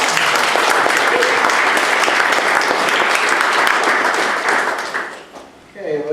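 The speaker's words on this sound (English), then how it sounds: "Applause." A large audience at a talk breaks into loud, sustained applause, dense clapping close and continuous for about five seconds before fading out.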